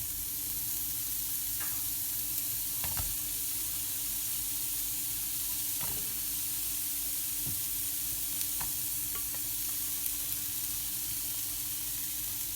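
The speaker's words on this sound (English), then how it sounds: "So I'm going to add the onions, and you'll hear it starting to sort of sizzle." Steady sizzling of onions and mushrooms frying in a pan, a constant hiss with occasional clicks of stirring, close and moderately loud, no talking.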